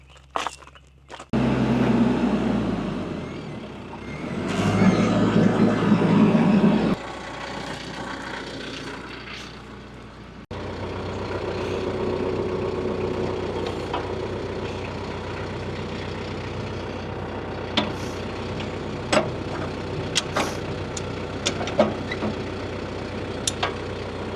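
A tractor engine starts and runs near, rising to a louder rumble, then settling into a steady idle with occasional knocks and clanks of equipment over it.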